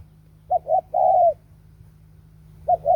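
A dove coos nearby: a short run of soft, low, hollow notes, a pause, then two more coos, with no other sounds besides a faint hum.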